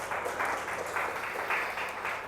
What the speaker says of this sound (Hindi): आइए हम जोरदार ताली से उसको यीशु मसीह को धन्यवाद दें।